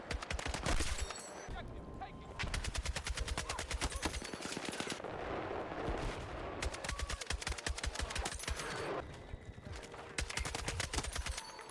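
Tap-fired gunshots in the video game Battlefield 6, loud and close, coming in rapid bursts of single shots with brief pauses between groups, with no talk over them.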